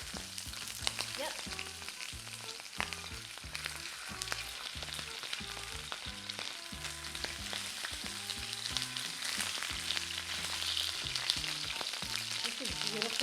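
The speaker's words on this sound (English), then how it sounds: "Add in your sausages. Listen to that sizzle going on there." Sausages sizzle and spit in smoking-hot oil in a pan, a dense, steady crackle of frying that stays loud and close throughout with no talking over it.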